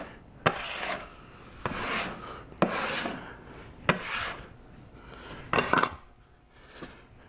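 Dough scraper dragging across puff pastry dough on a work surface, five or six distinct rasping scrapes in an uneven rhythm, close and fairly quiet, with no talking.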